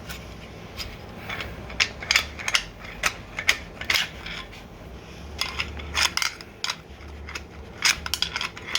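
Engine teardown, unscrewing and lifting out parts: irregular sharp metallic clinks, taps and clatters of tools and components, close and sporadic over a quiet background, with no speech.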